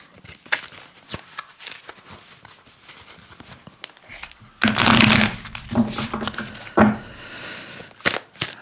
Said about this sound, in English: Let's just give it a shuffle so they're in the deck as well.